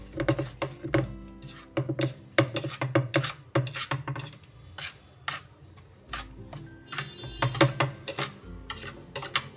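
Salt, black salt and food colour get mixed into raw chicken for a Delhi Jama Masjid-style fry, with a steady run of close scraping, rubbing and clinking strokes in a bowl and no voices.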